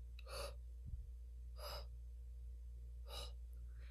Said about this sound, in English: So I inhale and then I exhale.